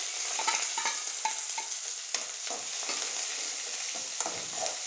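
Chopped large onions sizzling in hot oil with mustard seeds and curry leaves, a steady close frying hiss broken by repeated scraping stirs of a spoon in the pan, no voices.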